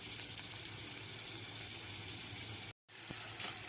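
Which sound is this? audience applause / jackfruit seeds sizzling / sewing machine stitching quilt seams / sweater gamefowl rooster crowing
jackfruit seeds sizzling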